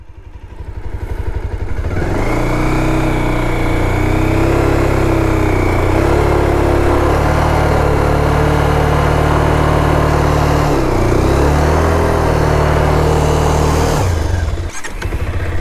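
A motorcycle in first gear does a burnout on dirt, its engine catching and then holding a loud, close, sustained rev for about twelve seconds, dipping twice in pitch before cutting off.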